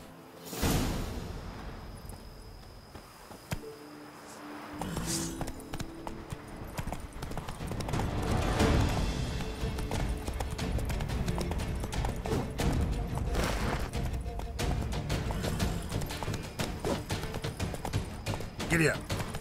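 A horse gallops in The Witcher 3 Blood and Wine expansion, its hooves pounding in a fast, steady clip-clop that builds to a dense, continuous run, with some voice and game sound mixed in.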